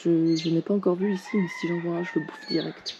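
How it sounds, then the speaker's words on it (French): A rooster crows in Jamaica, drawn out in the background beneath someone talking steadily in French in the foreground. "Vous entendez le coq? Il a chanté toute la nuit."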